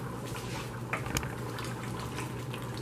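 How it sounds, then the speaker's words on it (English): A pot of pinto beans with smoked sausage at a rapid boil, the thick liquid bubbling steadily with a constant low churning and a few sharper pops. "the beans are at a rapid boil because they are actually done"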